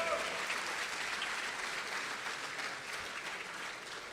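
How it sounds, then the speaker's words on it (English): Crowd applause at an awards ceremony, a steady, fairly faint wash of clapping from a seated audience that holds at an even level without voices standing out. "let's give old Torpedo a warm round of applause"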